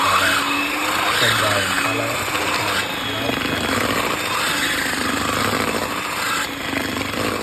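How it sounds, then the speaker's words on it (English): An electric mixer drones steadily while beating 500 grams of butter with 500 grams of sugar for a Sri Lankan marble butter cake, its motor whirring with a low, wavering hum throughout. "So the 500 gram butter and the 500 gram sugar has been beaten to mix together, and they are pale color."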